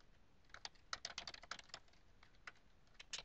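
Rapid, uneven clicking of keys on a computer keyboard, close and fairly quiet, in bursts with short pauses, no voices.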